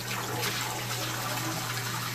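Running water flowing steadily from a freshly restored supply, a continuous even rush with a low hum beneath it, alone and fairly loud throughout.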